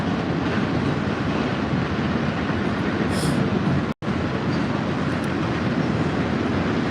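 Steady, loud rumbling roar of a passing train, continuous broadband noise with a brief dropout midway, no voices.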